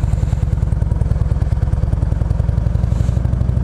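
A Harley-Davidson Road King's engine rumbles steadily and loud while riding in third gear, a close, continuous low thumping pulse with a faint clattering edge, alone without talk.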